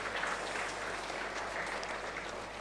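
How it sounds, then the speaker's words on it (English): Steady, sustained applause from a large graduation ceremony audience, a dense wash of clapping that holds at an even level throughout without any voices rising above it. "Please give a thundering applause for yourself"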